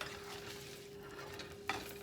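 Precooked breakfast sausage sizzles quietly as it warms in a pan, a faint even frying hiss with a low steady hum and one brief clatter near the end.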